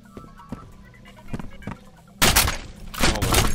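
Gunfire in the first-person shooter F.E.A.R. comes as scattered sharp shots and clicks at first, then breaks into loud, dense bursts of rapid fire in the second half.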